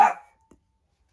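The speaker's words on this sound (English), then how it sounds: "that's my dog barking, to let me know that he sees the mailman." One short, sharp bark from a dog reacting to a mailman cuts through an otherwise quiet room, followed by a faint little sound half a second later.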